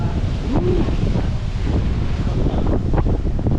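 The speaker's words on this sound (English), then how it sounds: "look at the waves." Big sea waves surging against huge rocks with heavy wind buffeting the microphone, a loud, continuous roar of surf close by, heard from a ferry between Ibiza and Formentera.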